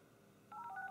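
Touch-tone dialing beeps from a Samsung Galaxy S3 placing a voice-dialled call, a quick run of short, clear tones that start halfway through after a near-silent lead-in.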